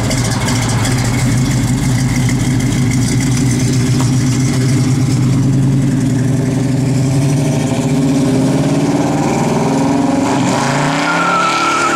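1968 Chevrolet Cheyenne C10 truck engine running close and loud, a steady low rumble that holds evenly throughout with a slight shift in tone late on, no voices over it.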